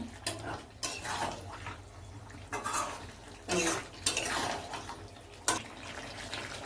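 Mutton curry with salt is stirred in a pot, a spoon scraping and clinking against the metal in uneven strokes, fairly close but quiet.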